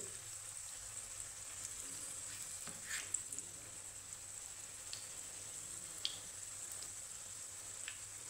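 Cauliflower kachori deep-frying in hot oil, a steady soft sizzle running throughout with a few faint clicks and stirs, no talking.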